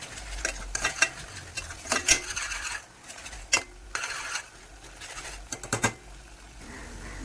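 A spice paste frying in oil in a pan, stirred with a utensil that scrapes and clinks in irregular bursts over a low sizzle, close by and without speech.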